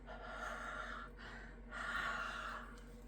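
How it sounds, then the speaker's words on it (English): Two close, soft, breathy exhalations onto a rubber stamp during paper crafting, each a drawn-out airy huff separated by a short pause, with no talking. "So I got to breathe on it."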